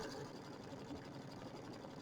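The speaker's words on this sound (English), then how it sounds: "I'm going to go ahead and sew out my step number 1 with the white thread" An embroidery machine stitches a snowflake placement line in white thread for a quilted bench square, giving a steady, even, quiet mechanical whir throughout without pauses.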